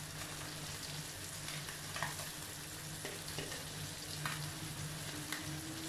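Sardines dropped into a mango and chilli curry simmering with curry leaves, ginger and garlic, giving a soft, steady sizzle and bubbling close by, with faint stirring and a few small splashes.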